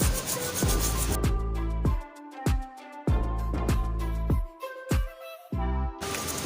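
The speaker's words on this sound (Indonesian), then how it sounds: "nanti seperti biasa saya akan membersihkan lagi bekas potongan dengan menggunakan cutter" A cutter grinds at the cut root stumps of a Streblus asper bonsai in repeated rasping strokes of about a second each, loud and close, with brief pauses between passes.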